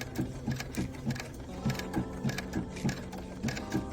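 A sewing machine runs a decorative stitch along the edge of a quilt appliqué block, giving a steady, rhythmic chatter of quick needle strokes in evenly spaced pulses.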